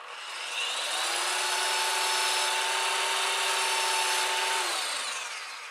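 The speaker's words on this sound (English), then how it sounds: "That's 60 grit on the belt sander." A belt sander fitted with a 60-grit belt grinds a Corian nut blank, spinning up into a steady, close, high whine with a gritty rasp for several seconds before winding down, with no talking.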